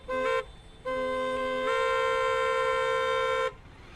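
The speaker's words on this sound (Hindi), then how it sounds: "बाकी हॉर्न सुने आपने मेरे?" A loud, bright Bosch horn on a Honda CBR 250R motorcycle honks three times: two short blasts followed by a longer sustained one, close by with quiet road noise between.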